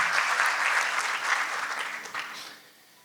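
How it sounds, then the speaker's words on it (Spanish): A conference audience at a BNI Talks women leaders event applauds its sponsors, dense sustained clapping from a crowd that holds steady and then fades out near the end. "pido un fuerte aplauso para todos los auspiciadores que hacen posible este evento"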